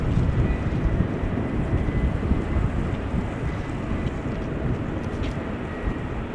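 A Boeing 787-10 Dreamliner takes off from runway 18 Left at Amsterdam Schiphol, giving a continuous low, loud engine rumble mixed with wind noise on the microphone.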